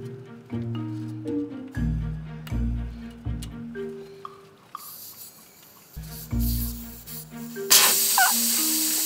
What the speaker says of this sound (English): We just spray.